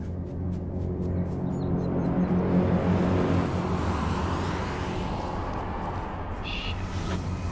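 A plane passes overhead in H1Z1 King of the Kill, a steady broad engine drone that holds fairly loud for several seconds before easing slightly, with almost no talk over it.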